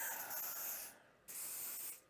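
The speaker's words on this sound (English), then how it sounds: "I'm going to spray a bit of silicone on the fitting itself" Two hissing bursts of silicone spray from an aerosol can onto a barbed hose fitting, close and steady, separated by a short pause.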